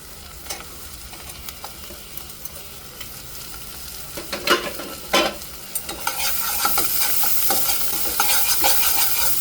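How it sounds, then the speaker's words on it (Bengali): Whole cinnamon, cloves and cardamom, washed beforehand, hitting a pan for a chicken curry: scattered stirring scrapes and clicks, then a sizzle that swells louder and steadier over the last few seconds, close by with no voices. "এখানে আমি দারচিনি, লবঙ্গ, এলাচি ধুয়ে রেখেছিলাম, এগুলো আমি দিয়ে দেব।"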